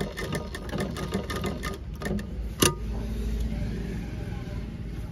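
Sewing machine stitching a kurta, its needle running in a fast rapid rhythm up close, pausing briefly with a sharp clack before the motor continues.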